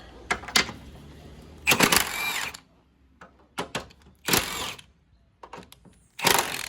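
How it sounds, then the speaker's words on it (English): Power tool bursts loosening 14 mm front strut bolts on a 2016 Toyota Corolla, several short intermittent whirring runs of a second or so separated by quiet gaps, fairly close. "So now we can actually go ahead and remove these 14 millimeter bolts."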